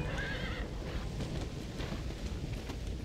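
A horse whinnies in the Red Dead Redemption video game, a short rising neigh near the start over steady clip-clop hooves and background wind.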